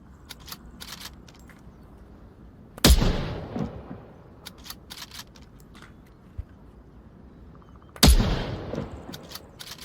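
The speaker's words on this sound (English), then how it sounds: "All right, so here we go with the bolt action sniper." A bolt-action sniper rifle in a VR shooting game fires two loud, sharp shots several seconds apart, each with a short rumbling tail, with small mechanical clicks and handling noises in between.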